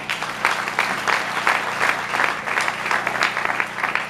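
A church congregation applauding and acclaiming Jesus during a sermon, sustained rhythmic clapping from many hands with a soft crowd murmur beneath.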